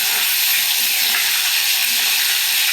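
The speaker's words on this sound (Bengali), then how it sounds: "তো মাছগুলোকে আমি ভালো করে লালচে লালচে করে ভেজে নেব" Rohu fish pieces frying in hot oil give a loud, dense, continuous sizzle, close and steady with no break and no talking.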